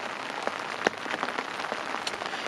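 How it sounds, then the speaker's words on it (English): Steady rain falls during a carp fishing session at a lake, a dense continuous patter of drops on surfaces with a few louder close drips standing out, no talking. "Eventually, when it stops raining."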